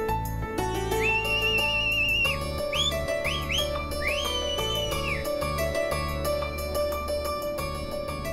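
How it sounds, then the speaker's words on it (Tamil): A person whistles a cheerful tune in rising and falling slides over steady background music, the whistling fairly loud and close with no talking. "விசில் அடிச்சு சந்தோஷமா இருக்கேன்னு பாக்குறியா?"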